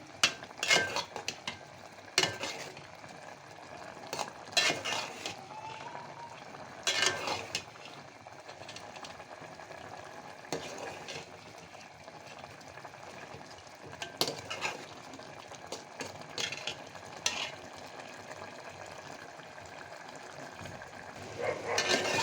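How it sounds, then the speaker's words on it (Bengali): Small fish curry being stirred in a pan after chopped coriander leaves go in, with scraping spoon strokes and light clinks of utensil on metal over a soft simmer, moderately close with no talking. "এখন আমি ছোটো মাছ চচ্চড়িতে দিয়ে দিচ্ছি ধনিয়া পাতা কুচি, আর এখন আবার আমি নেড়ে দিচ্ছি।"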